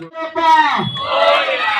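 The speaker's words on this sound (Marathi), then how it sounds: "जरा त्यांच्यासाठी पण जरा जोरदार टाळ्या" An audience at a Home Minister game show event lets out a brief, loud shouted cheer, with voices swelling and then holding for under two seconds; no distinct clapping stands out.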